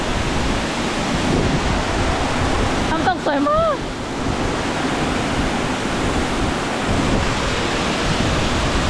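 Sarika waterfall rushing in a constant, loud broadband roar that fills the whole stretch, with a brief voice breaking through near the middle.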